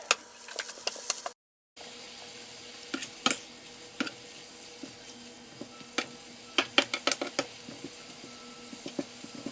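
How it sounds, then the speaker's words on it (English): Cabbage and onion frying in a pan, a soft continuous sizzle broken by clicks and scrapes of a utensil stirring against the pan, close and fairly quiet, with a brief gap of silence early on. "Stir that around a little bit until the cabbage begins to wilt and kind of starts to cook."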